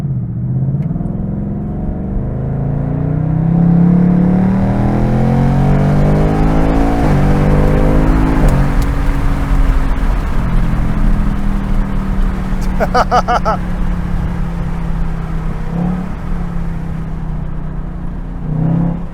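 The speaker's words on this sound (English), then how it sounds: "you also have this track mode exhaust" A 2024 Ford Mustang Dark Horse engine revs loudly in track mode exhaust, roaring through rising and falling pitch, close and powerful, with a crackling exhaust burst partway through.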